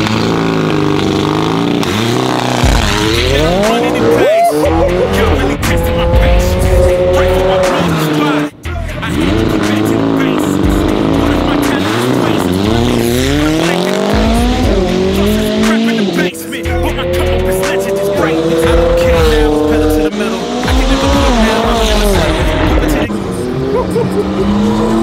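A supercar is driven hard, its engine revving and surging through repeated accelerations while the tires squeal loudly and continuously through the corners; someone talks over the roar.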